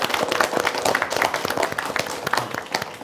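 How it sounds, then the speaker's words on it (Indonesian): A live TV studio audience at a talk show claps together in a lively burst of applause, many hands close by, with no voices over it. "Boleh tepuk tangannya Bapak Ibu?"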